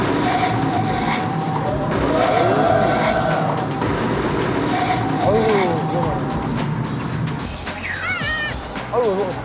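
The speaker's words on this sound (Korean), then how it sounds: "급히 브레이크를 밟습니다." A car braking hard on an open road after rounding a corner, with tires squealing in wavering, high-pitched streaks over steady engine and road noise; voices are heard intermittently.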